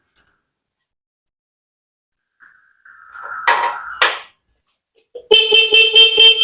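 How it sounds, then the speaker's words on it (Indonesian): Front horn of a Suzuki Satria motorcycle under restoration sounding one loud, close, buzzing blast after a few clicks and clunks from the workshop. "Tuh, klakson depan nyala Sob."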